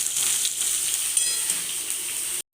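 Masoor lentil fritters frying in hot oil in a pan, a steady close sizzle and crackle that continues without a break and cuts out abruptly at the end.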